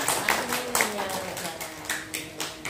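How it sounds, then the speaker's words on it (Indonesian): At a village charity gathering, an audience claps in a loose scattered rhythm, a handful of distinct hand claps near and moderately loud, with a voice speaking over them. "Tepuk tangan untuk Desa Krandegan."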